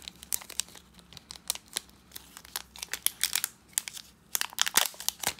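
A tough plastic packet of nail foil is torn open up close, giving irregular bursts of crinkling and crackling plastic that grow busier and louder toward the end.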